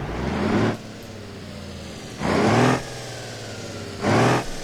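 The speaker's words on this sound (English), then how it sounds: "the T-Series now has a new engine sound" A T-Series truck engine in BeamNG.Drive idles with a low rumble, then revs in three short bursts spaced about two seconds apart, each rising and dropping back to idle.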